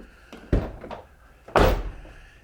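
A Chevy Silverado truck door being shut after its hinge pins were replaced, giving two solid thunks about a second apart, close and fairly loud with no talking.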